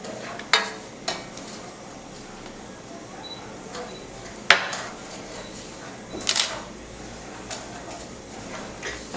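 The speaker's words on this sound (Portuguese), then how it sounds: "A gente precisa ir mexendo para não grudar no fundo da panela" Acaçá, a coconut and sugar sweet, being stirred in a pan, giving soft scraping and clinking strokes at irregular intervals over a low steady background hiss.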